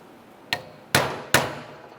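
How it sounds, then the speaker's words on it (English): Three sharp metallic hammer blows strike a pin on the steering column shift lever of a 2001–2005 Ford Explorer Sport Trac. The first tap is lighter, the next two are harder, and each clang rings out briefly in a quiet space. "Just going to give this a couple bonks"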